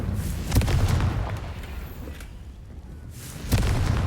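In Hogwarts Legacy, Confringo fire-spell blasts hit with deep, booming bursts, one near the start and another near the end, over a low rumbling background.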